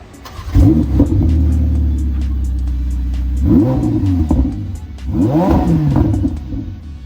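A Ferrari 488 Pista revs hard nearby in several sharp, loud bursts, each rising then falling back, with a sustained high throttle hold at first, no voices over it.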